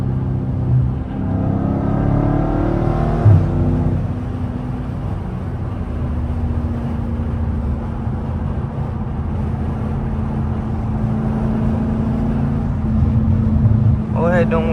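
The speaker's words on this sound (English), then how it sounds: "Y'all gotta peep the downshifts though." A Dodge Challenger Scat Pack 392 downshifts on a highway as a steady, loud engine drone and road rumble shift pitch a few times, and someone talks over it throughout.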